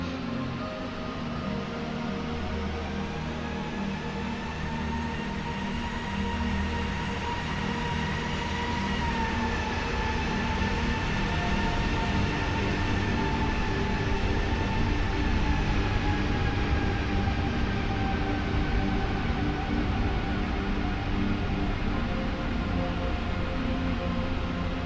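A jet aircraft takes off in Microsoft Flight Simulator 2020 with a steady, loud engine roar and a rising whine that continues unbroken for about 25 seconds, with no voices.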